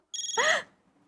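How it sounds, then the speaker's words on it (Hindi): A mobile phone ringtone signals an incoming call indoors, a short loud electronic melody of rapid pulsing tones and then a brighter swelling phrase, heard alone before stopping abruptly. "मामा जी का फोन."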